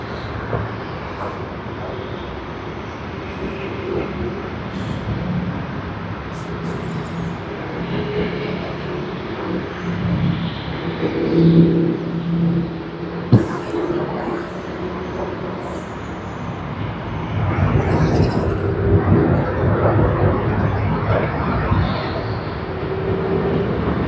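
Singapore Airlines flight SQ 212 at Sydney Airport, a distant jet engine rumble swelling and fading steadily in the background with no talk over it.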